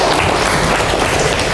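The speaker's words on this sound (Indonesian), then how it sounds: "Tepuk tangan dong buat teman kalian." Classroom applause for a classmate after a student presentation, a short, steady burst of clapping from a group of students.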